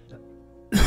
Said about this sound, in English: I do not know where this cough came from.